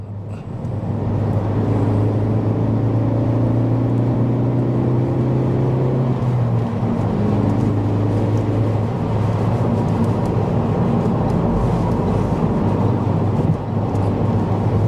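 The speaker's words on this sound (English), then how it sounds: "that engine note is just lovely" A remapped Ford Focus ST Mk3 engine drones loudly from inside the car while driving, its pitch rising through the first few seconds before settling into a steady, rumbling cruise, with no talk over it.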